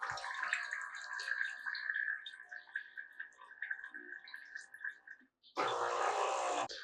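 A Philips automatic espresso machine flushes water through its pipes during descaling, a pumped, gurgling trickle with tonal whine and sputtering, then a short pause and a louder rushing gush of water at the end.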